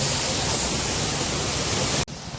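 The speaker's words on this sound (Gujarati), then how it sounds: "ફૂલે ફૂલ ભાઈ વરસાદ ધોમ ધોકાર આવે" Heavy monsoon rain pours down in Surat, a dense, loud, even hiss that holds steady, then drops sharply to a lower level just before the end.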